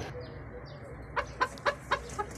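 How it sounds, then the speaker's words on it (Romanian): Two pairs of bantam Mille Fleur chickens, white-spotted on black, give a run of about five short clucks close by, rising over steady low background noise. "Aici avem două perechi de găini pitic, mii de flori, alb bobat pe negru, ca și culoare."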